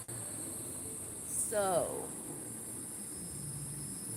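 Cicadas or birds at dusk keep up a steady high-pitched drone during a drive, with a short sweeping call rising above it midway and a voice speaking briefly.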